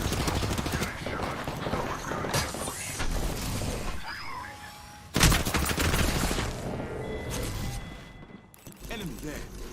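Video game gunfire, with dense bursts of shots and rapid automatic fire crackling throughout and a sharp loud blast midway, while people talk excitedly over it.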